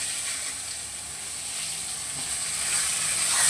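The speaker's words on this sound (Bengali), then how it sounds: "এবার ওই তেলটা যে আছে তার মধ্যে আমি মাছের যে বেগুনগুলোকে ভেজে নেব।" Eggplant slices, coated in salt, turmeric and a little sugar, sizzle in hot oil left over from frying fish, a steady close hiss that swells slightly toward the end with no talk.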